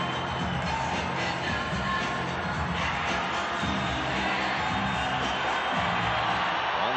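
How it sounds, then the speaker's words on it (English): A hockey arena crowd at a San Jose Sharks vs Colorado Avalanche NHL game roars steadily, a broad wash of cheering and noise that never lets up, with a broadcast commentator talking over it. "now the crowd trying to get the Avalanche going"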